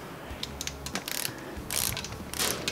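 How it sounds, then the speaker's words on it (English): A ratchet wrench clicks as bolts are torqued on the top end of an 1985–89 250R motorcycle engine, with close, crisp bursts of ratcheting separated by short pauses. "Dave, when you torque those, do you do stages?"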